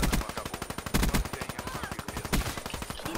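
Rapid automatic gunfire in the video game Call of Duty Black Ops 3, loud, dense bursts of shots in a steady fast rhythm throughout, with a few heavier cracks mixed in.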